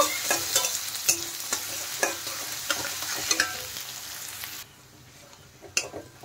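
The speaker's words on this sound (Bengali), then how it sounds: "দিয়ে দিলাম কুচনো রসুন, আর দিয়ে দিলাম কুচনো আদা, কাঁচা লঙ্কা। এখন এই মশলাগুলো একটু ভালোভাবে কষিয়ে নেব।" Chopped garlic, ginger and green chilli sautéed in a pan, with a continuous sizzle broken by repeated sharp scrapes and knocks of a spatula, then a quieter stretch and one last clatter.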